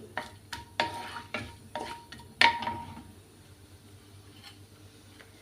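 Cinnamon and finely chopped bay leaves browning lightly in a pan, with a quiet sizzle under a run of sharp metallic clinks and scrapes as a spoon stirs, close up and without talk, fading to a softer hiss.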